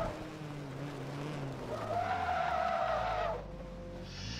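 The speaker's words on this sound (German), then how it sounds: "Hör auf zu driften" A drift car slides through a corner in the racing game Forza Motorsport 2, its tires squealing in a sustained, rising screech over engine drone for about two seconds before the squeal cuts off and engine noise continues.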